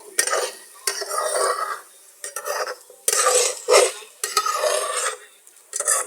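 Spaghetti and chicken with a spoon of vinegar being stirred and fried in a pan: continuous scraping and clinking of a utensil against metal over a soft sizzle, close up, in uneven bursts with no talking.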